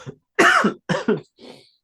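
A close, harsh cough comes in a few quick bursts, then a softer throat-clearing rasp, sharp and loud against short silences.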